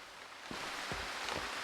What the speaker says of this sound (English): We're in rain.